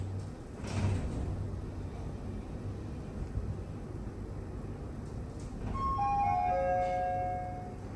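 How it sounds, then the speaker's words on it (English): A Shanghai Mitsubishi traction elevator in a Beijing mall sounds its chime, several clear bright tones near the end over the quiet hum of the moving cab. "I love that chime."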